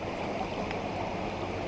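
Spring water rushes steadily down a 40-foot-deep limestone gorge, a soft, continuous wash of flowing water with no voices.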